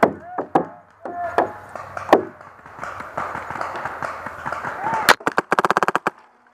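Paintball guns fire during an outdoor paintball game, sharp scattered pops early on, then a rapid close burst of shots near the end, with players shouting over them.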